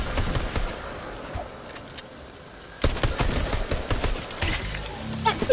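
Rapid pistol fire in a multiplayer shooter video game, a dense burst of sharp cracking shots that drops out briefly and then resumes at a fast clip, loud and close.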